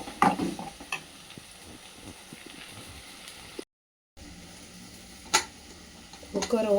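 Onions sautéing in a pan for mutton fry give a soft, low sizzle with occasional clinks and scrapes of a spoon, close but quiet, with a short silent gap partway through.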